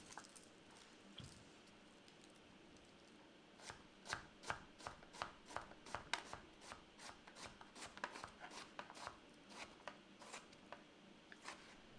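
A knife finely dicing an onion on a cutting board: close, crisp chops that start a few seconds in and continue in a quick, steady rhythm to the end.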